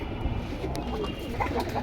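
Lal Patti Military pigeons give soft, continuous cooing close by, a short murmuring stretch with no voices over it.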